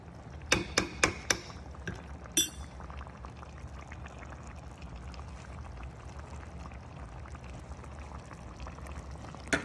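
Puerto Rican picadillo simmering in a pot, a soft bubbling bed opened by a few sharp metallic clanks and knocks, then quiet continuous simmer with no talk.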